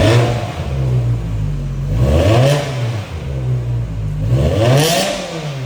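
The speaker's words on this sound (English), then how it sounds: "we'll let this warm up and get some revs in." A BMW M6 V10 running without resonator, secondary catalytic converters or muffler idles loudly and is revved twice, each rev swelling in pitch and then dropping back to a raw, rumbling idle, close up.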